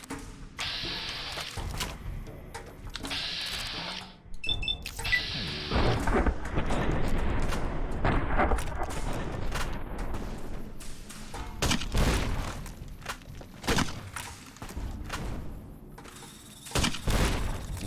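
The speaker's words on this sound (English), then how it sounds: "Shooting with a Ranger Sequoia and an anti-material rifle there." Shots from a Ranger Sequoia revolver and an anti-materiel rifle in Fallout: New Vegas: sharp, heavy reports come in irregular clusters with mechanical clacks and thuds between them, loud and close.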